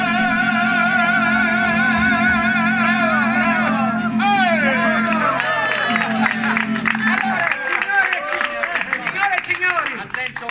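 Wedding guests at a reception in Forza d'Agrò cheer and clap for the groom, the steady music fading as a loud burst of applause, whoops and shouts builds and fills the room.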